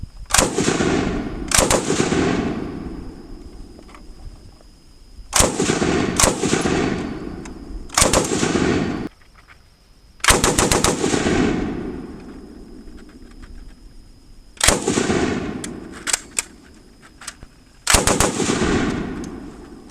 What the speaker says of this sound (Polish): Strzela tak wolno, że można spokojnie oddać pojedynczy strzał